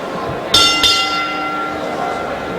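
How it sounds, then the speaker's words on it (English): A boxing ring bell at a championship fight is struck twice in quick succession, loud and close, with a long metallic ring fading out over a low crowd murmur. "Your timekeeper at the bell, Damien Membry."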